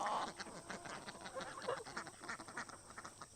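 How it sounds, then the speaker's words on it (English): Runner ducks quacking in an outdoor pen, a string of nasal quacks and honks at moderate distance over a faint background. "Let's go check on these runner ducks too while I'm out here."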